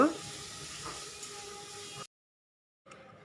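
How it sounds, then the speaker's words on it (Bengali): Spices fry lightly in a pan for a vegetarian banana flower curry, a steady, dense crackling hiss that cuts out briefly, then resumes. "মশলাটা হালকা ভাজা ভাজা হয়ে আসছে"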